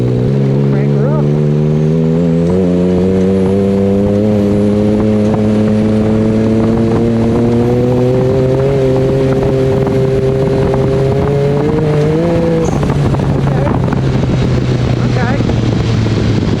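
A car engine revs up in third gear from about 2,500 RPM and 30 mph on its first run with a new transmission and rear end, loud and close, the pitch climbing steadily before easing off.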